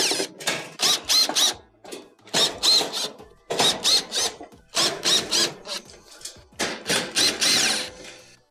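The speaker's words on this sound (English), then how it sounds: "We'll go around the perimeter, remove all the Phillips screws that hold it on." A screwdriver turns and rasps out Phillips screws from the back panel of a Samsung stove, in short repeated bursts of metallic scraping with brief pauses between them.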